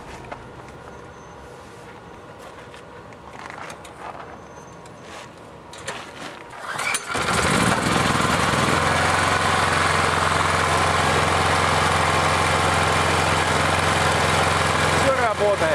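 A petrol generator with no air filter is pulled by hand and starts about halfway through, then runs loud and steady. Someone talks quietly before it fires, and handling noises come just ahead of the engine catching.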